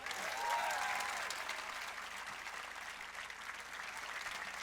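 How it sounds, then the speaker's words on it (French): A graduation ceremony audience claps steadily for its teachers, a broad sustained wash of applause filling the hall, fairly distant and slowly easing off. "Est-ce que vous allez les applaudir très fort ou non?"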